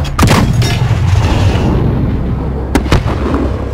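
Loud, continuous explosions and artillery fire from the Call of Duty Modern Warfare campaign rumble and boom close by, with sharper blasts cutting through the dense barrage.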